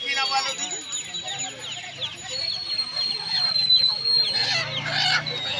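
Sonali chickens alongside local hens at the Uluberia hen market, busy clucking and squawking from several birds at close range, with people talking underneath.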